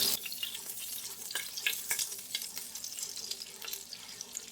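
Two tablespoons of butter melt into hot oil in a pan, giving a close, moderate sizzle with scattered sharp crackles and pops over a soft steady hiss, no voices.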